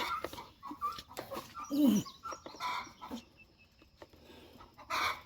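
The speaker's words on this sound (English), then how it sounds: "that little hen right there, the little brown one, Fluffy" Chickens cluck in short bursts with a rooster's louder call partway through, close by, among scattered rustling and outdoor noise.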